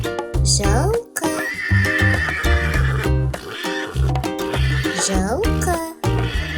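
A horse neighs several times in quick succession, each whinny a bright, quavering rise and fall, layered over a thumping, cheerful children's backing track.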